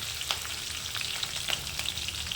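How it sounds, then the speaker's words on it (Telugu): Green chillies and a dried red chilli fry in hot oil for a konaganti leafy-greens curry, giving a steady, moderately quiet sizzle dotted with small crackling pops and spits, with no talking. "ఇలా వేగుతూ ఉంటుంది."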